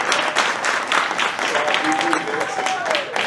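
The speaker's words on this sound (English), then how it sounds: "I hope you will clap for Charlene, the wedding planner" A wedding crowd claps steadily at a moderate distance, with a faint tone and a few voices audible underneath.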